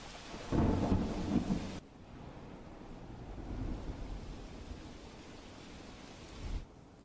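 A heavy downpour hisses steadily in Bhavnagar district, Gujarat, with a deep rumble of thunder near the start and another swell toward the end.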